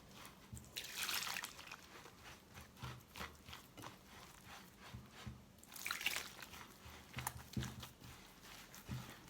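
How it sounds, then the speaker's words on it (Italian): Water poured by hand into semolina in a large deep bowl while making Sardinian flatbread dough, heard as close splashing and trickling bursts amid soft handling and mixing noises, with no talk. "e comincio a mettere un po' d'acqua."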